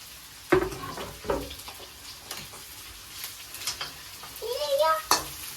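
Onion, carrot and cabbage fry in a pan for egg noodles, a soft continuous sizzle broken by sharp spatula knocks and scrapes against the pan, with faint clinks near the end.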